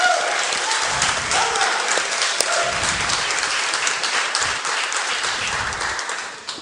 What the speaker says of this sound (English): Let's have a round of applause from you